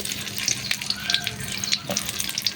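Whole green chilies drop into hot oil in a kadai, giving a close, steady crackling sizzle with sharp spitting pops over a continuous hiss.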